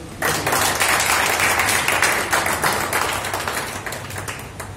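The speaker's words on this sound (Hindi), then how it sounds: "इसके लिए एक बार तालियां तो।" An audience applauds an all-India topper in the CA Intermediate exam, with clapping swelling quickly and holding steady, then gradually tapering off.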